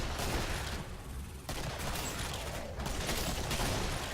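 Continuous dense gunfire in the video game Killing Floor, including 9mm pistol shots, forms a loud, crowded barrage with only brief dips.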